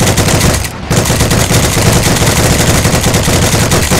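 A tank gunner in Heroes and Generals fires a machine gun in loud, sustained rapid bursts, with one brief pause before the rattling resumes without talk.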